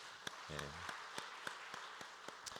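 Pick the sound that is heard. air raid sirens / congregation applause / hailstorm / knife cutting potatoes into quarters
congregation applause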